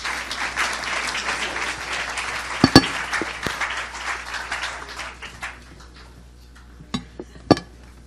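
Applause from the audience at a Mash Up Nantes entrepreneurship evening in Nantes, a steady round of clapping that thins out after about five seconds into a few sharp isolated claps and clinks.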